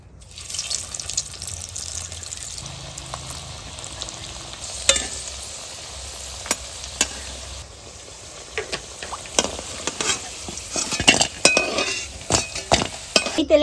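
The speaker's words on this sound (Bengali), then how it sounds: "এই তেলের মধ্যে এখন আলুগুলো ভেজে নেব।" Potatoes frying in hot white oil in a wok give a steady sizzle, with irregular sharp clinks and scrapes of stirring throughout and no voices.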